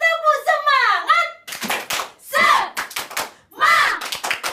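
Children do a rhythmic spirit clap in a classroom, a quick run of hand claps mixed with young voices chanting, loud and close, in several bursts.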